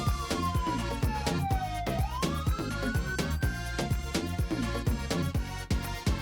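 A cartoon fire engine siren wails with a sweeping pitch over loud, busy background music, sounding continuously throughout without speech.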